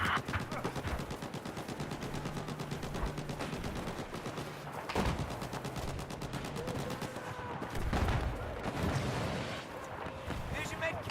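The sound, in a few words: machine gun fire in Battlefield 4 video game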